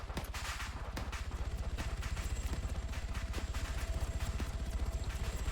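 Sustained gunfire from ArmA 3, rapid automatic bursts of rhythmic shots over a dense continuous battle din, loud and close, with a few sharper single cracks standing out.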